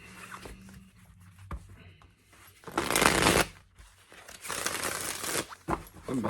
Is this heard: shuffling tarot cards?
yes